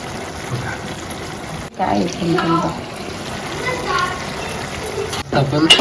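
Water is poured over wild alambi mushrooms and drained off, giving splashy running and trickling that swells in bursts while a person talks over it.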